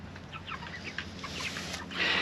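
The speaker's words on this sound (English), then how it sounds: "And all the chickens are finally outside." A flock of farm chickens clucks outdoors in the rain, a close, busy chorus of short calls over a steady background hiss.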